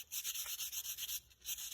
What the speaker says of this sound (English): I basically just keep on sanding